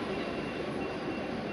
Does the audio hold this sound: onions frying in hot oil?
no